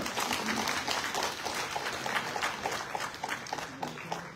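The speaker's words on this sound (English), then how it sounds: "So please give her a big applause here." An audience at a Tripura government job offer ceremony applauds a recipient. The clapping is soft, steady and dense, with many hands sounding from a distance.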